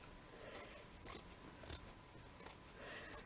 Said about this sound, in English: So I'm just cutting them with scissors.